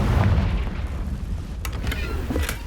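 A Confringo blast spell goes off in Hogwarts Legacy, a low rumbling boom with a dense bass roar that fades out slowly, broken by a few faint crackling pops near the end.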